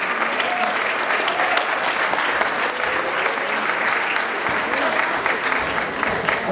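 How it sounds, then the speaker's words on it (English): Audience at a boxing event gives a round of applause, a loud, dense and steady roar of clapping from a large crowd throughout, with faint voices mixed in. "Let's have a round of applause for her."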